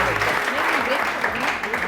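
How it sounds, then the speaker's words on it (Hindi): A studio audience at a televised morning show claps in a dense, sustained burst while a voice talks over it. "सनम के लिए बहुत सारी तालियां"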